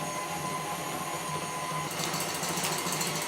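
A stand mixer whips meringue with hot syrup until the bowl cools, a steady motor whir with a whisking rattle running continuously, close and fairly loud, with no talk.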